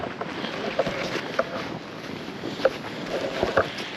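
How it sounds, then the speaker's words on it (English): Blizzard wind rushes through a city tunnel during winter camping, a constant roaring hiss close to the microphone with a few louder gusts and buffeting thumps. "The wind is just whipping through this tunnel right here."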